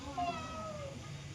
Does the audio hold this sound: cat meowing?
yes